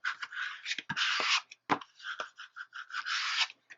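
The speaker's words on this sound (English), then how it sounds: "And let's burnish it." A paper fold for a box pocket folio album is burnished in short, dry rubbing strokes with brief pauses between passes, close and quiet, with no talking.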